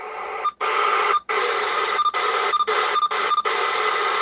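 Amateur radio receiver hiss on sideband on the 6 meter band, a steady loud band of noise broken by several brief dropouts and faint tone blips, with no voices.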